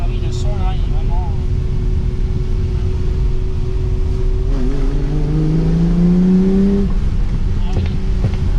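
A Ferrari 365 GT 2+2 V12 engine revs, a loud steady drone that rises in pitch and then falls back, with people talking over it.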